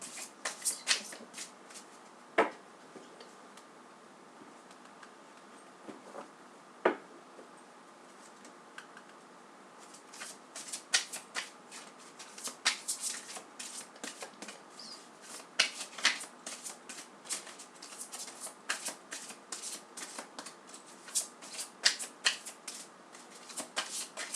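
Oracle angel cards are shuffled and handled in a quiet room, giving a scatter of soft, sharp riffling clicks that grow busier and more frequent in the second half, with no talk.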